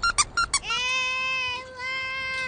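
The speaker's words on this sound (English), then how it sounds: "And then this one's her little squeaky toy." A puppy's squeaky toy squeezed close up: four quick squeaks, then a long, drawn-out whistling squeal that wavers and holds to the end.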